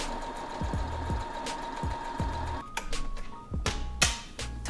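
A sewing machine runs a straight stitch along fabric waist ties in short bursts, its needle thumping rhythmically with brief pauses between runs, close and fairly quiet.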